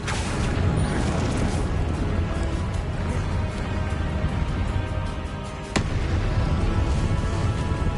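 Confringo fire spells blasting in the Hogwarts Legacy video game, a dense, continuous roar of crackling explosions and booms that stays loud throughout, with one sharp burst near the end.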